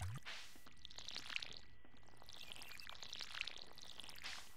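Water being poured over corn crops in Stardew Valley, heard as soft splashy sprinkling bursts that come in repeated passes at a quiet, even level.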